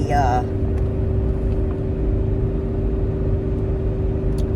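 A truck engine with a faulty muffler runs in a steady low drone with a persistent humming tone, close and unchanging throughout.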